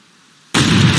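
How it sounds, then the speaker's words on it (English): A shotgun blast fired at an animal in the hunting game Way of the Hunter: silence, then one sudden loud close boom that holds as a dense roar to the end of the clip. "Let's take him out with the shotgun."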